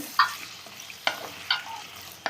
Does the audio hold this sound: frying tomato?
yes